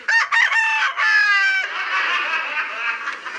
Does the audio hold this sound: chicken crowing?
yes